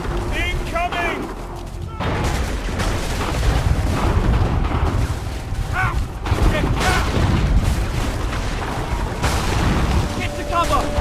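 Cannon fire and explosions boom heavily in an Assassin's Creed III battle scene. Repeated deep blasts rumble across the whole stretch, with shouting voices and a scored soundtrack layered on top.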